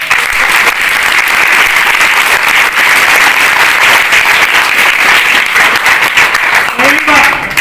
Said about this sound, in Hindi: प्रधानमंत्री अपने सर के लिए जोरदार ताली बजाओ।